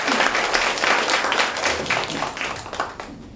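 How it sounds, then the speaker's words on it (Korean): Loud, close audience applause at a basic income debate during a book festival, a dense wash of clapping that swells and then gradually thins toward the end. "큰 박수와 후원도 부탁드립니다"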